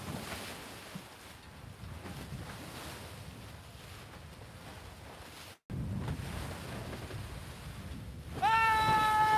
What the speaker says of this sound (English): This is all wind fetch. This is waves that are created by the wind.